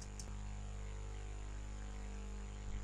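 A faint, steady electrical hum with a low drone fills a quiet room, constant throughout, with one tiny click near the start.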